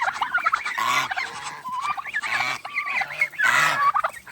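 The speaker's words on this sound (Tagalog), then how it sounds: "Yung mga pabo. Saka gansa." Turkeys gobble and geese honk in repeated overlapping bursts, loud and close, a busy chorus of poultry calls.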